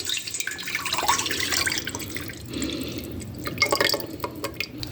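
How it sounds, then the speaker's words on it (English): Peach juice pours into a stock pot, a continuous liquid splash and trickle running for several seconds, fairly close and steady with a brief surge near the end. "So all I'm going to do is take my peach juice and add it into a pot."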